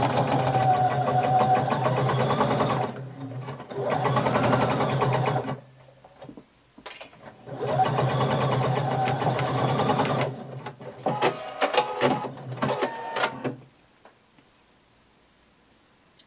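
A sewing machine stitches a 5/8-inch seam on a color-blocked pullover top in steady whirring bursts, two long runs and a short one, with pauses and small handling clicks between them.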